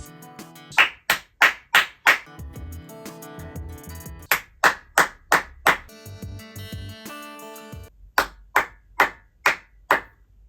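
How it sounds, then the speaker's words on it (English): Sharp hand claps ring out in an acoustically treated attic studio, in three quick runs of four to six claps each. Every clap decays short, and sustained tones hum in the gaps between runs. "let's do our clap test that we did the other day and see what difference that makes"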